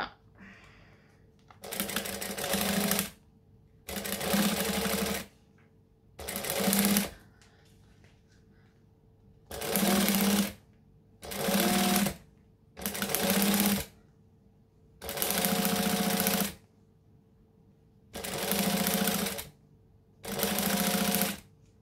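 A sewing machine stitches vinyl in nine separate bursts of rapid, steady needle chatter, each a couple of seconds long and divided by short silent pauses, loud and close with no voices.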